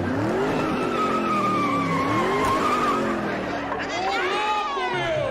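A car skids away in the Chaves 3D video game, its tire squeal rising and sweeping through long curving tones over a steady engine drone, loud and continuous, with speech mixed in.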